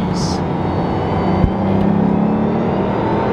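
A Bugatti Veyron accelerating hard, heard from inside the cabin as a loud, steady roaring engine and road rush with a brief thump, continuous throughout.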